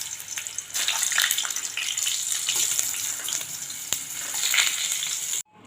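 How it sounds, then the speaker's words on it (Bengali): Potatoes hit hot oil in a pan, giving a loud, dense sizzle and crackle that holds steady for about five seconds before cutting off abruptly. "আলুগুলো ভেজে নেব।"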